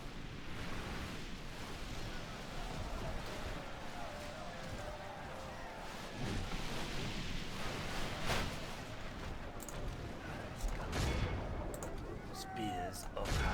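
Troops of Harad opening fire in a video game battle: a constant rumbling din of distant volleys and scattered sharp cracks, fairly faint, rolling on without pause.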